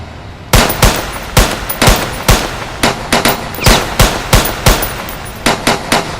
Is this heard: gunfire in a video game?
yes